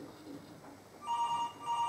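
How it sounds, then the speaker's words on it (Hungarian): A telephone rings on stage during a school student theatre production, starting halfway through as two quiet, trilling bursts over a hushed room. "Telefon."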